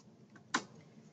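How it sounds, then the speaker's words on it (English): A single computer keyboard keypress, a sharp isolated click standing out against quiet room tone, with a faint softer tap just before it. "press Enter on your keyboard, and it moves into the grid and saves changes"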